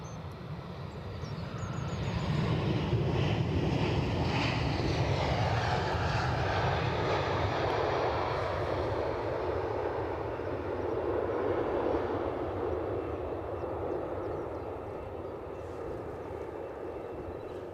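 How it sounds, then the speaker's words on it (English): A Ryanair airliner arriving at Edinburgh airport passes with a loud, sustained jet engine roar that rises, holds for several seconds and slowly fades as the aircraft moves away, heard without speech. "while we await the Ryanair arrival"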